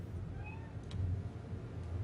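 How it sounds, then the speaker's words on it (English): A house cat gives a couple of short, soft meows over a low, rumbling background. "Oh, I love your cat."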